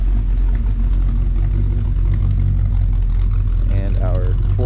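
A 1972 Buick Gran Sport Stage 1 idles with a loud, steady, low engine rumble from its cam throughout, and a brief voice rises over it near the end.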